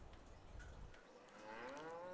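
Cattle in the video game Farming Simulator 22 give a single low moo, fairly faint, on a quiet farm with no talking.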